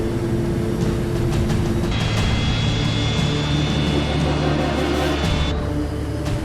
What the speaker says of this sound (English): The F-28 struggles to get airborne.